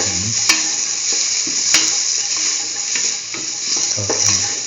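Tomato pieces sauté with onion, garlic and ginger in a pan, giving a loud, continuous sizzle broken by sharp scrapes and clacks of a utensil stirring, all close up and with no talking.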